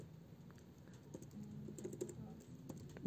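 Computer keyboard typing while labelling pins in code for a Microchip PIC16F18446 Curiosity Nano board, a quiet run of soft irregular key clicks over steady low room hum, with no talking.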